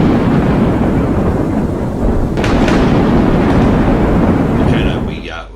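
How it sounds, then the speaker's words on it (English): Thunderstorm in North Queensland: a steady, dense roar of rain and rumbling thunder fills the whole stretch, loud and continuous, with a few sharp crackles midway before it fades slightly at the end. "we do get some massive storms over here, particularly where I'm at the moment in North Queensland"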